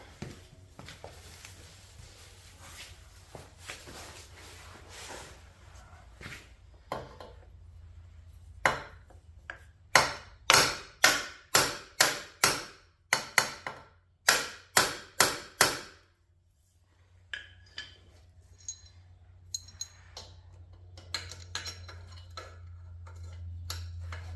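A burst of sharp metallic hammer strikes on a turbo motorcycle build, a rapid run of close, loud knocks, pausing briefly and then resuming, with scattered clatter before and after.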